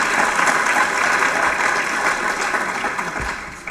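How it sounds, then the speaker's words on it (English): Sustained applause from an audience at a teaching awards ceremony, dense and steady clapping filling the hall for nearly four seconds before easing off slightly at the end. "I would like to give you another round of applause"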